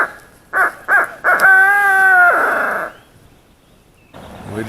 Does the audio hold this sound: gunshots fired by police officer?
no